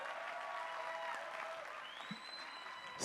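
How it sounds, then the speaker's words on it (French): Audience applause fills a comedy club after a comedian from Gabon finishes his stand-up set, a steady wash of many hands clapping with a few whistles rising near the end. "On applaudit très fort, mesdames et messieurs."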